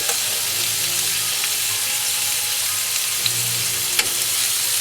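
Steak and layered potatoes fry on a hot griddle with a steady, close crackling sizzle throughout, a couple of light utensil taps near the end, no voices.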